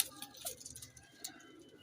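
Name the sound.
pigeon cooing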